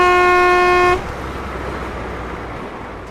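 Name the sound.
car horn honking from the car behind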